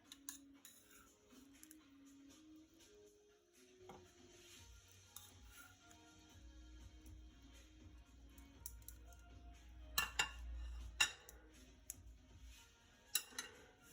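Beef bones are dropped into a crock pot, giving faint scattered knocks, clinks and scrapes of bone against the ceramic pot, with a few sharper clatters toward the end in an otherwise quiet kitchen.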